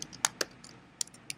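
Code being typed on a computer keyboard, several quick, sharp key clicks in an uneven rhythm, close and fairly quiet with no talking.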